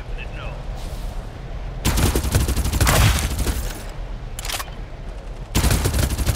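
Automatic weapon fire in Farlight 84 hunt mode bursts out in loud, rapid strings, separated by brief quieter gaps with a few shorter volleys, over a steady low game background.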